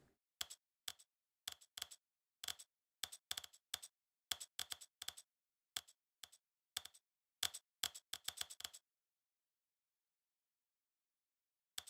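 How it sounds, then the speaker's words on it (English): A slider is pushed back and forth in The Stanley Parable video game, making crisp, rapid clicking ticks in uneven clusters for about nine seconds before going silent, with no talking. "Slider simulator. The sound is very satisfying."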